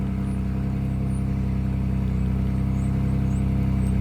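A Ford Ranger's engine idles steadily after a remote start, a loud, even, mid-pitched hum with faint whirring and no voices over it.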